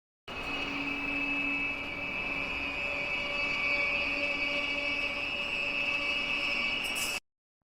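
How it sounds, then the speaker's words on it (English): Resonant wind sound effect, a steady sustained rushing roar with a strong ringing tone running throughout, alone for about seven seconds before cutting off abruptly. "the first clip I've got is a particularly resonant wind effect"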